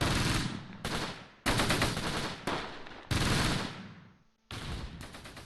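Several loud bursts of rapid gunfire in the World War II strategy game Close Combat, set near Caen in 1944, each burst cutting off sharply before the next.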